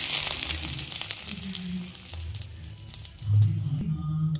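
Dried red chillies and curry leaves sizzle and crackle in hot oil, a steady close frying hiss with small pops, part of making pacha payir satham in a single pot.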